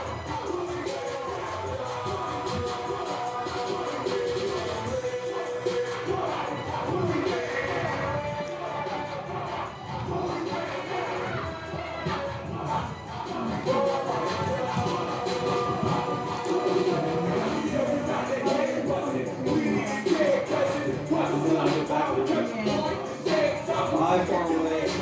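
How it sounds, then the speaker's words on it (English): A stadium crowd files in before a high school football game, Pumas at Atlanta, a continuous murmur of voices, shuffling and movement filling the space at steady volume, with people talking throughout. "Crowd still filing in."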